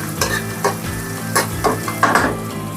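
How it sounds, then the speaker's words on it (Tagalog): Garlic sizzling in a hot pan for a crispy togue and fish tofu stir-fry, a steady bright fry with several scraping stirs of a utensil against the pan at regular intervals, close and alone. "So, hintay tayo na mag-golden brown yung ating garlic."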